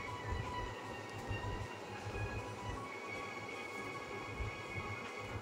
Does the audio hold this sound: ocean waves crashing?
no